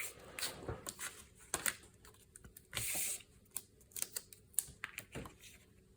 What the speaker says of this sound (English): Now we'll just peel off the backing.